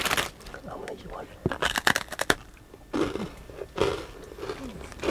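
Crunchy food bitten and chewed up close in several crisp bursts, loudest early on and again later, with a person's voice and mouth sounds between the bites.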